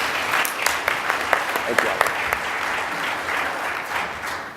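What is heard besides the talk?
audience applause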